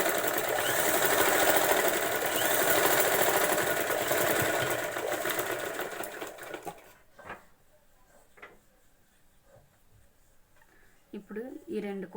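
Sewing machine stitching a prince-cut blouse with an open back, running loudly and steadily for about seven seconds, then stopping, leaving quiet handling sounds and a short burst of fabric or hand noise near the end.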